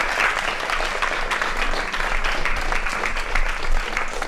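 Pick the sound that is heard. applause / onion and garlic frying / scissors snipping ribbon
applause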